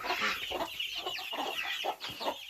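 Young chicks in a coop peep and cluck in repeated short bursts close by, a busy chorus of small chirps with no talking.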